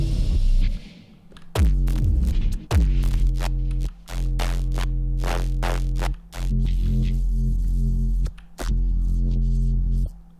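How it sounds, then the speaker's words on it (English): Loud, gritty distorted synth bass playing sustained notes in a repeating pattern, with brief gaps between phrases and no voices. "it sounds like that because I put a distortion on it"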